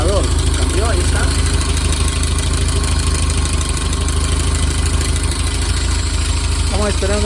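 A Volkswagen Kombi's engine idles steadily after carburetor repair and radiator cleaning, a loud, even low rumble that lasts throughout, with someone talking briefly over it at the start and near the end.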